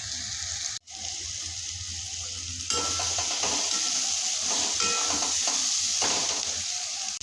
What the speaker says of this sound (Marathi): तर आता आपण चवीपुरती जिरे टाकून घेऊया आणि हा मसाला आणला